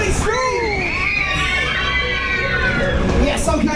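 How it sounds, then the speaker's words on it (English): Riders scream and shout in a loud, continuous wall of overlapping voices on the Laser Dome Waltzer at Bolsover Funfair, rising and falling close by, with an operator's voice over them. "somebody scream!"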